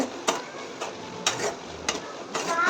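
A spoon stirs a snake gourd chutney mixture in a pan, giving a few distinct scraping strokes over a soft, steady cooking hiss, close and alone.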